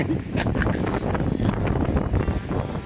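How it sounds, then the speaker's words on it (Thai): Strong wind blowing outdoors near a durian orchard, a steady loud rushing roar buffeting the microphone throughout, with no voices. "ลมแรงครับลมแรงมาก"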